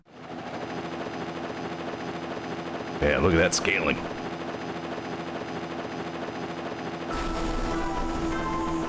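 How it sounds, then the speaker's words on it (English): A transport helicopter in the Mega Man Zero video game approaches with a steady droning rotor hum, broken by a brief loud burst of game effects midway, and a person speaks over it. "The transport chopper is rapidly approaching."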